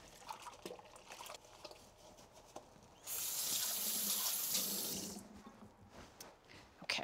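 A kitchen sink tap runs for about two seconds mid-clip, a bright steady gush of water between quiet clatters and handling sounds.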